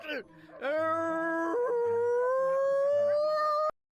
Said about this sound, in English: They're just barking again.